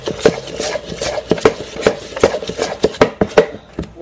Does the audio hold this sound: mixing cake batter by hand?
yes